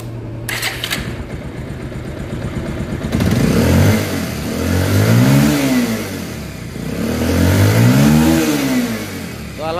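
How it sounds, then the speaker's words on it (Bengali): A motorbike with a pickup problem starts up and idles with a rough putter, then its throttle is twisted twice, each time swelling into a loud rising rev and falling back, close to the microphone. "এখন বাইকটা আমরা স্টার্ট করে আপনাদেরকে দেখাচ্ছি যে থ্রোটল ঠিকভাবে নেয় কিনা"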